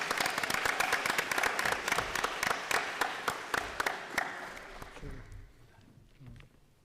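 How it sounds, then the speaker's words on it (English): A roomful of people at a school board meeting claps in congratulation for students, a dense, steady patter of many hands that thins and fades out over the last couple of seconds, with a voice briefly heard near the end. "Please join me in one more round of applause of congratulations."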